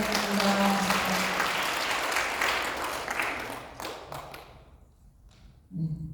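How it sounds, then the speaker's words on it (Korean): Church congregation at a Korean healing revival service clapping in praise, a dense broadband wash of applause for several seconds that thins and fades out, followed by a brief low voice at the end. "우리 하나님께 영광의 박수 드리겠습니다"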